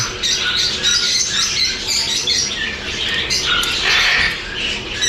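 Loud, shrill squawking from a group of sun conures, continuous and overlapping throughout, close by with no other sounds.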